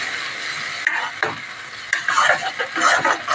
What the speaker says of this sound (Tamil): தக்காளி நல்லா எண்ணெய் பிரிஞ்சு வர வரைக்கும் நல்லா வதங்கட்டும்